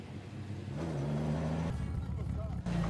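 A vintage car from the 1925 to 1969 era idles and revs nearby, its engine note rising and settling over a few seconds, with a voice talking over it.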